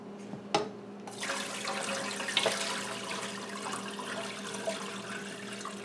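Water from boiled giant Irish potato skins poured off into a sink, a short splash followed by a steady rushing drain stream heard close up.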